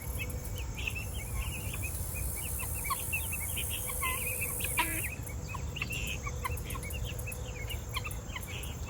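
Chickens in a run scratch for worms, giving soft scattered clucks and chirps over a steady outdoor hum, faint and fairly distant, with no talking.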